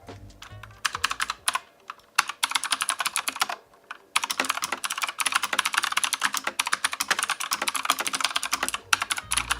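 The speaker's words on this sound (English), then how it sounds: "here's the sound test of this keyboard to just see how it sounds like when you type on it" Fast, clacky typing on a loud mechanical keyboard, close up, with a short pause partway before the rapid keystrokes resume.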